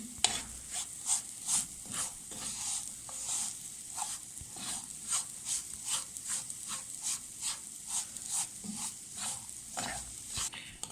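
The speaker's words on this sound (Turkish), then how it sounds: "Devamlı karıştıralım ki dibi tutmasın. İrmiklerimiz yanmasın." Semolina is stirred while it roasts in a pan for halva, a spoon scraping in a steady repeated rhythm, about twice a second, over a faint sizzle, close and alone.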